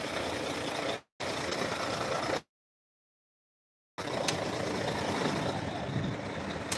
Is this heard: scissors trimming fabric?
no